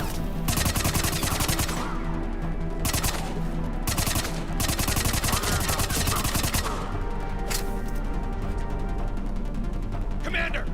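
Sustained rapid automatic gunfire in a Mass Effect 3 firefight, bursts of shots overlapping almost continuously at close range, with voices calling out over the shooting.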